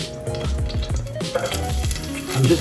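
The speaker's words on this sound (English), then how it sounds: "to cook up a little bit of garlic with the little tomatoes" Garlic and small tomatoes fry in extra virgin olive oil in a pan, a steady close sizzle with soft scraping and stirring bumps running through the whole stretch, growing slightly louder toward the end.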